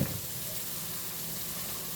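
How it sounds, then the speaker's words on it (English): Potatoes tumble into a hot pan of melted butter and olive oil, a brief thump at the start giving way to a steady, even sizzle of frying that carries on alone without talk. "And then I'm just going to dump these potatoes in."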